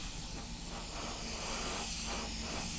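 An airbrush sprays paint onto a scale model during weathering modulation work, giving a steady close hiss of fine mist that runs continuously in short pulses, with no talking.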